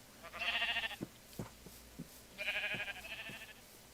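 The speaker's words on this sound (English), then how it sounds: "Got some sheep that are running away." Minecraft sheep bleat twice in a savanna world, each a nasal, wavering baa lasting about half a second, separated by a few soft footstep-like thumps, with no talk.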